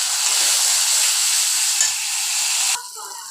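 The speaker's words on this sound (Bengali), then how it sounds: "দেখো, মশলাটা প্রায় কষা হয়ে এসছে, আরও একটু কষা হবে, জলটা প্রায় শুকিয়ে এসে।" Masala spices frying in a pan with a loud, steady sizzle and hiss that drops off sharply near the end as the heat or stirring changes.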